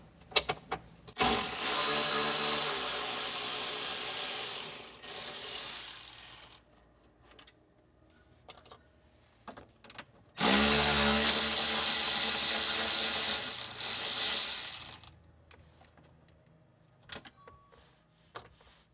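A ratchet with a 7mm socket loosens panel bolts on a Chevrolet Trailblazer SS, heard in two long, steady, buzzy runs of rapid clicking, each several seconds long and close up, followed by scattered lighter clicks and handling noises.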